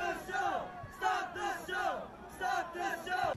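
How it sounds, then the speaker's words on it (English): Concert crowd at a show chanting "stop the show" in a loud, rhythmic unison, the chant repeating roughly every second with a dense roar of voices underneath. "They're all chanting, stop the show."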